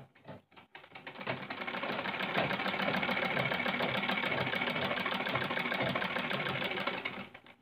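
Sewing machine stitching cloth during a home repair test, running steadily and loudly for about six seconds after a brief start, with a fast even rattle and no talking.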